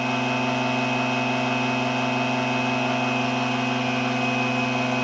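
A pump running steadily while inflating the tire tube of a John Deere LX266 mower gives a constant, loud motor drone with strong low hum tones, unchanging throughout.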